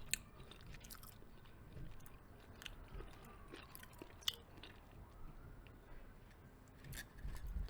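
Tofu teriyaki being chewed close to the mouth, soft wet squishy bites with a few tiny clicks over a quiet background hiss, faint and steady, with no talking.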